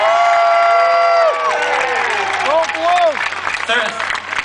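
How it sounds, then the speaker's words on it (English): Crowd at an outdoor Tea Party rally in New York City applauding and cheering, a loud broad wash of clapping with whoops and shouts over a steady low hum. "I would like another round of applause for the NYPD and the New York City Parks and Recreation Department."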